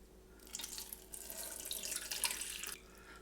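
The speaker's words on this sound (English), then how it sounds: "take your water and pour it in" Water pours steadily into a Keurig coffee maker reservoir for a couple of seconds, a close splashing gush that starts abruptly and tapers off.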